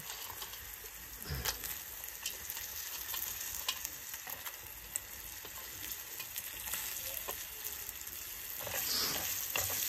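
Black crabs sizzle in a pan for a tribal-style crab curry, a constant bright hiss with intermittent scraping and clacking as they are stirred, close by and without speech.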